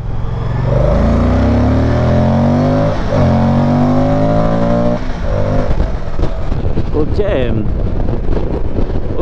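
A Moto Guzzi Stelvio motorcycle pulls hard in second gear from about 30 km/h, its engine note climbing loudly under strong wind rush, then easing off.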